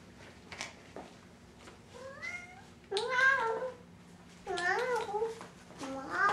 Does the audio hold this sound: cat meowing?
yes